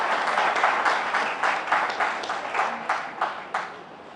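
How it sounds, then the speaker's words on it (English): Applause from an audience at a police hospital cooperative credit union meeting, a dense steady clapping crowd filling the room, loud and continuous before gradually thinning and tapering off. "A round of applause, please."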